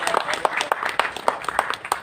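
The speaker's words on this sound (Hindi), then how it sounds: "जोरदार तालियां आप लोगों के लिए।" Audience clapping at a hospital event in Rajasthan, a burst of many hands with irregular sharp claps, moderately loud and close, no voices over it.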